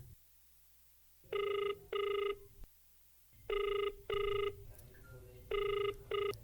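A telephone rings in repeated double bursts, three pairs of bright electronic trills separated by short pauses, loud and close with quiet room tone between them.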